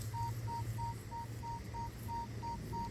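A metal detector gives steady repeated beeps over a buried target about six inches down in the yard behind an old 1750s stone house, a quiet, evenly spaced tone pulsing about three times a second over a low hum.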